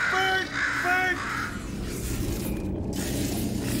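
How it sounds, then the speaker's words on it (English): A bird in the Portal 2 video game, near the eggs it laid in a door mechanism, gives a few loud, harsh caws over the opening second or so, followed by a steady background hum. "Bird! Okay, that's probably the bird in it that laid the eggs."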